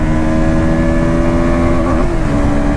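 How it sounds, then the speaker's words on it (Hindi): A KTM Duke 160 motorcycle with an underbelly exhaust gives a steady, bassy, boomy note, a close, loud drone holding one pitch and dipping slightly near the end, with no voices. "ड्यूक 160 में आपको काफ़ी अच्छा एग्जॉस्ट नोट मिलता है"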